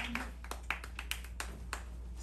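Scattered hand claps from a small audience at a freestyle rap battle in Panama, sparse and uneven, fairly faint over a low steady hum.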